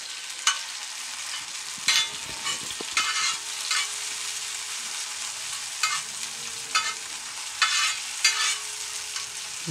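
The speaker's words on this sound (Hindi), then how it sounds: "इस तरीके से हम चलाते हुए उसे थोड़ा सा भून लेंगे।" Chopped tomatoes frying in a pan while being stirred, a steady close sizzle broken by regular scraping strokes of the spoon.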